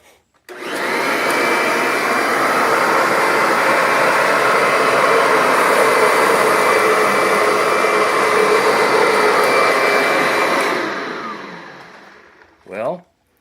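A Kirby G6 vacuum cleaner runs steadily and loudly with its brush roll spinning on setting 3, a constant whirring roar that winds down at the end.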